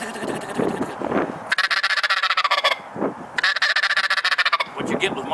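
A Grounds Thunder turkey call produces a rapid, rattling gobble in two loud bursts, each about a second long, with shaking, fluttery pulses separated by quieter pauses.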